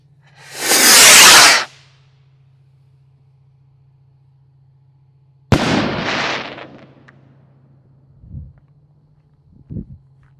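Large firework rockets launch with a loud whooshing rush lasting about a second, then after a pause a sharp bang with a crackling, hissing tail, followed by two short distant pops.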